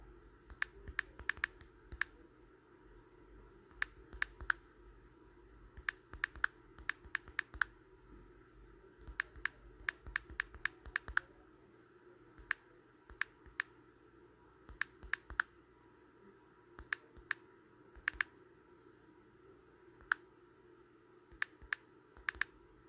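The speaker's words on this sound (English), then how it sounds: "I may have to type in a little bit more." Computer keyboard typing in short, scattered bursts of sharp, close key clicks separated by pauses, over a quiet room hum.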